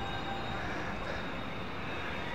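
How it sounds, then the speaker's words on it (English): A train passing on the CP rail line in Calgary's Beltline district, a steady, fairly faint rumble and rolling hiss with a faint high tone, continuous throughout and without talking. "That's a train."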